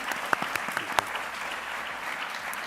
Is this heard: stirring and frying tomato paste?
no